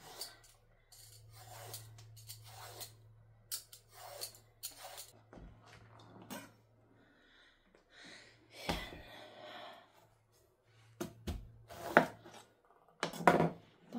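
A bottle gourd (upo) being peeled with a hand peeler in a home kitchen, giving quiet, intermittent scraping strokes with short pauses between them and a faint low hum underneath.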